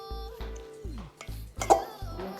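Homemade coleslaw mixed in a bowl, with a string of close, uneven clinks and scrapes of a utensil against the bowl, one sharper knock near the middle, with no talk.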